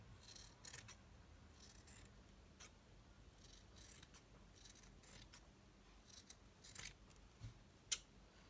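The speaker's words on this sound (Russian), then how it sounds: "Срезаем лишний синтепон." Scissors trim excess synthetic padding while a hooded baby envelope blanket is being sewn, making faint, close, irregular snips and rubbing sounds, with a sharper click near the end.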